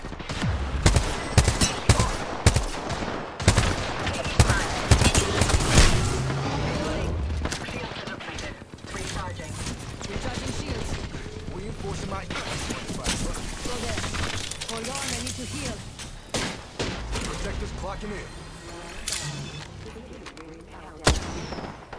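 Gunfire in the shooter Apex Legends: bursts of sharp, loud shots crack in rapid clusters, heaviest at the start and then thinning into scattered reports over a busy background of game noise.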